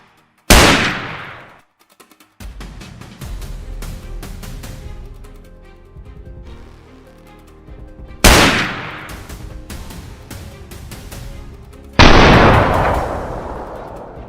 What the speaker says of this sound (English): from our hiding position, we continuously fired